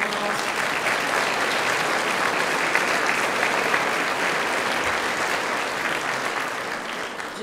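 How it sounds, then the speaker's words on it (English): Sustained applause from a banquet audience honoring Teachers of the Year, dense and steady clapping throughout, loud and close, tapering slightly at the end. "So we need to give that group of people a round of applause."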